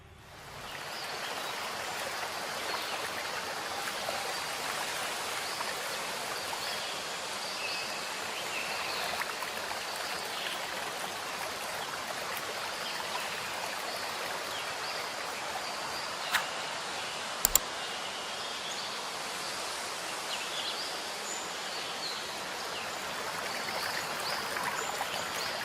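Waterfall and flowing water on a stylized Valorant custom map, a steady full rushing wash heard alone and unchanging throughout, with a couple of faint brief clicks partway through.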